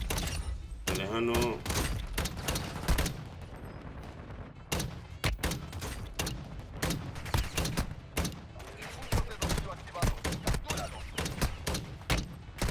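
Rapid bursts of long-range gunfire in Warzone Mobile, sharp cracks in irregular volleys, with a voice talking over the shooting.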